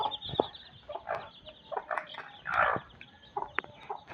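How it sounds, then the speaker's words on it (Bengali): Foreign-breed chicken chicks and fowl clucking and calling, with several sharp cheeps and short clucks scattered through the clip at moderate loudness, close by, with no talking over them. "বিদেশি মুরগির ছাও।"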